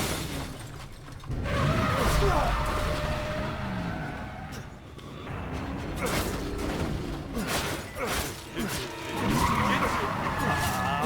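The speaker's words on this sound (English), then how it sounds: "I don't know how he manages to turn the car on without the car keys." A car in the video game Resident Evil 7 (Madhouse) drives and skids, loud tire squeals and engine surges repeating in bursts, with a voice talking over the game sound.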